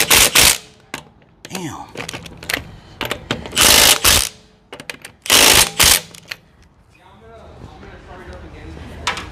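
A Milwaukee cordless impact wrench hammers on a tough fastener in loud, rattling bursts, about four hard, close blasts separated by pauses where someone speaks briefly.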